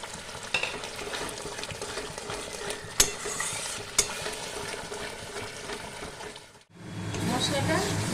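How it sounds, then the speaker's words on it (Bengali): Masala paste stirs and fries in a pan for a papaya dish, a steady sizzle broken by sharp clinks of the spoon against the pan, then a brief hush before a louder hiss swells up; a voice speaks at times. "এবার আমি মশলাটা ভালো করে কষিয়ে নেব।"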